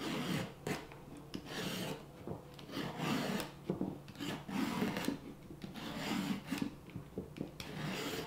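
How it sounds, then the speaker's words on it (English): A carrot is shaved into thin strips with a peeler or knife, giving steady, repeated rasping strokes in an uneven rhythm, close and moderately loud, with no talking. "You could just use a regular peeler or you could just use a knife and cut them very thin strips."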